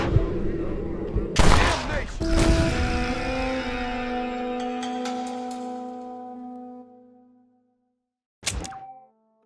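Gunshots in the Red Dead Redemption video game, a few sharp loud reports followed by a long ringing, resonant decay that fades to silence before one more brief impact.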